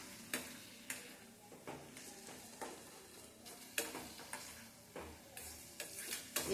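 Masala sautéing in oil over a low flame, a soft sizzle broken by frequent scraping strokes of a spoon against the pan, quiet and close, with no talk.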